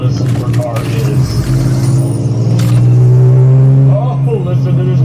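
A supercar engine drones with a steady low, throaty hum that swells slightly, while someone talks over it throughout.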